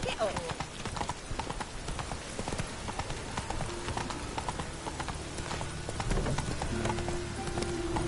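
Roach the horse walks in The Witcher 3, hooves clip-clopping in a steady, close rhythm across the whole stretch, with a voice talking over the footsteps.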